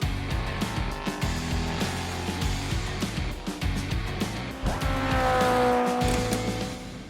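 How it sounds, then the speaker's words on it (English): A car engine revs hard and the car pulls away with tires squealing, loud and close throughout, with rising engine tones toward the end. "shift into first, and rev this baby up."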